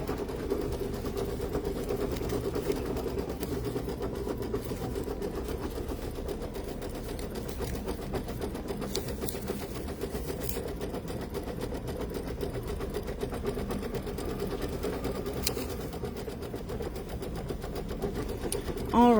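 Embroidery machine stitching the outline of a ghost-shaped bookmark, a steady fast mechanical chatter running throughout under a person talking.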